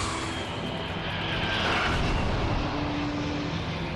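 An airliner taking off or landing at Los Angeles International Airport, its engines giving a steady, loud, broad roar that swells slightly midway and holds without a break, with no voices.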